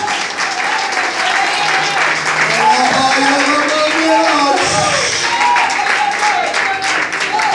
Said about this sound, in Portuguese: Aplauda o Senhor do Senhor nessa noite.